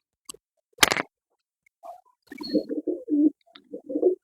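Pet pigeons coo in a short series of soft, low, throaty bursts up close, after a sharp rustle or flap early on.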